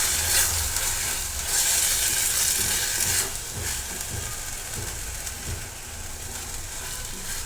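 Homemade spice masala fries in hot oil for egg curry, giving a soft, continuous sizzle and hiss close by. The pan is quiet, with occasional stirring scrapes and no talk.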